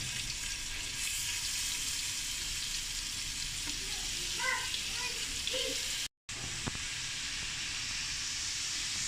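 Tikka boti kebab skewers frying in oil in a pan, a steady close sizzle that carries on throughout, with a brief quiet talking voice over it.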